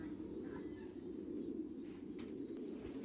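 Titan Thai pigeons coo on a pigeon farm in Ho Chi Minh City area, a low continuous murmur of many birds cooing together, faint and steady with a few distant chirps.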